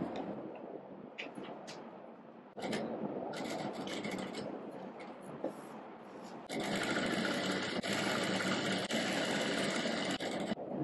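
A sewing machine stitching a side pocket for shorts or pants, running in bursts that grow louder and steadier toward the end, with a few brief pauses and small handling noises.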